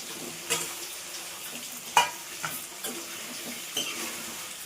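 Taro roots go into a hot pan and are stirred. A steady sizzle carries a few scattered utensil clinks and scrapes, close by and without speech.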